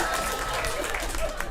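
A comedy club crowd claps and murmurs in a dense, steady wash of applause that stays close and fairly loud for a short moment.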